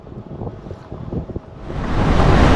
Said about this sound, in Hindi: बहुत तेज हवा है, एकदम झटके से हवा आई